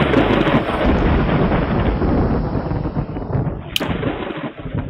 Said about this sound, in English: I'm just waiting for that thunderstorm to go away